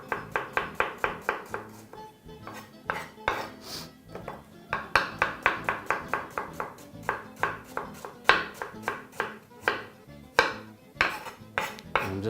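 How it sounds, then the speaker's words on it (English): A knife slices an apple into half-moon pieces on a cutting board, steady repeated thuds in quick runs with short pauses, close and clear with no talk. "Now we're just going to proceed to cut those into some half moon shapes."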